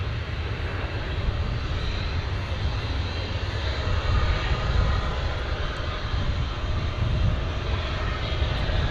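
A Spirit Airlines jet landing at DFW Airport, Dallas, produces a loud, sustained engine rumble and roar that holds steady throughout, swelling slightly near the middle, with no talk over it.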